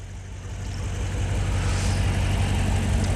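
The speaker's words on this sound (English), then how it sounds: "See the ticking noise or chirping noise?" A Hemi car engine idles steadily up close, a faint rapid ticking or chirping riding over the low rumble.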